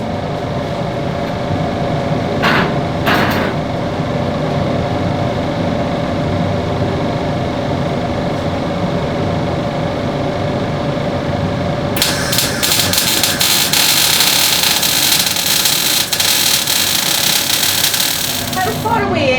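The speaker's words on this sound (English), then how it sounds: "So the slower you go, the more wire comes out of the gun, and it makes a bigger weld." A wire-feed MIG welding gun runs a slow, steady weld on metal at close range, with a continuous crackling buzz that grows harsher and brighter partway through over a constant workshop hum.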